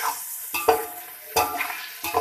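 Boneless chicken pieces sizzle in a pan for chicken chow mein, a soft, steady hiss broken by a few scraping, clattering stirs of a spatula against the pan.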